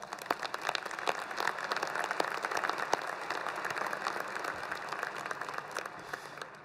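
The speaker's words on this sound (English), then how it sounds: "Let's give them a round of applause." A commencement audience at a university ceremony applauds the event committees, faculty and staff, with dense, sustained clapping heard from a distance at moderate volume, no voices on top.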